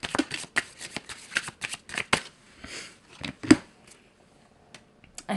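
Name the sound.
shuffling tarot cards for a reading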